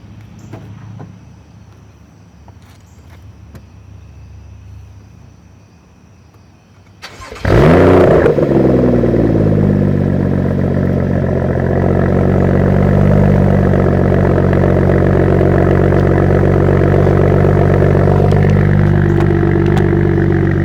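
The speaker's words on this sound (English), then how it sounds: "we'll do a little startup and sound test" A BMW F30 335i cranks and fires up sharply after a quiet stretch, settling into a loud, deep, rumbling idle with a throaty tone from its Valvetronic exhaust, valve open, that holds steady.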